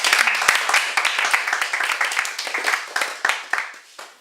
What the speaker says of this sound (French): En tout cas, on peut applaudir.